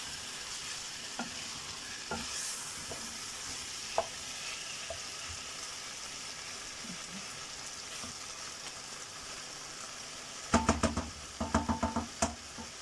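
Chicken sautés in a pan with a steady, quiet sizzle and scattered faint taps, then a cluster of sharp utensil clacks and scrapes against the pan near the end, close by, with no talking.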